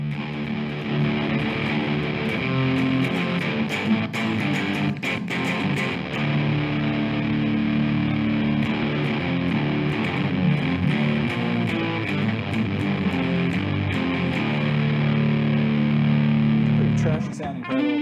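An electric guitar plays through a Proco Rat distortion pedal, a thick, gritty, sustained tone of chords and notes that rings continuously and loud up close throughout.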